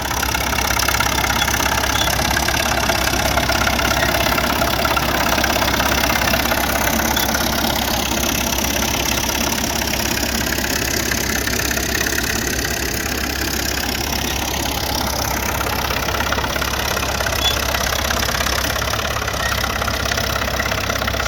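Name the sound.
Caterpillar tractor pulling two 4-bottom trailing plows uphill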